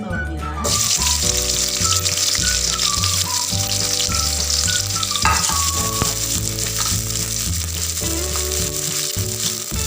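Shallots sizzle steadily in hot oil for a stir-fry of oyster mushrooms, a loud continuous frying hiss with background music playing throughout.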